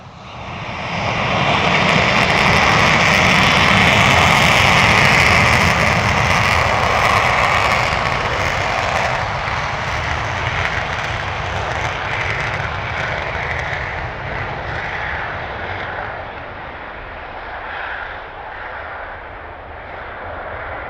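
A military jet engine on afterburner at RAF Lakenheath roars loud and close, a steady thunderous blast with a harsh high edge that lingers without fading.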